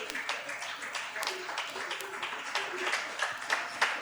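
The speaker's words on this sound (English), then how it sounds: "Please, let's give a better round of applause for Ezenia and Mr. Alex Obodo." An audience at a cultural evening gathering claps steadily in a continuous, moderately faint patter of applause, with a few sharper claps standing out, heard without clear speech over it.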